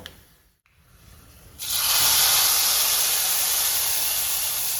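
Fried spice tempering poured into a Kerala-style mung bean curry with mango, bursting into a loud, steady sizzle after a brief quiet moment and holding strong to the end.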